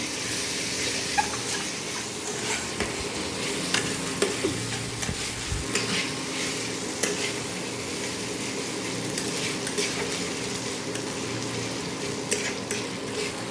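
Onion, tomato and ginger garlic paste are stirred in a pan, with a continuous sizzle beneath repeated clinks and scrapes of a utensil against the metal, heard close up.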